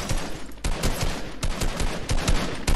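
Fortnite gunfire: rapid bursts of sharp, loud shots crack in irregular clusters, near and punchy, with brief pauses between volleys and no talk over them.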